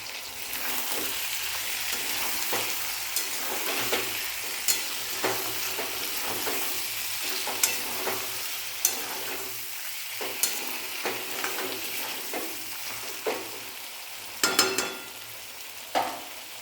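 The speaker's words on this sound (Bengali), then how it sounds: "তো তেলে ভালো করে ভাজবো" Water-soaked cumin powder frying in oil, giving a continuous sizzle with a steady spattering hiss and regular scraping clicks from stirring, close and fairly even throughout.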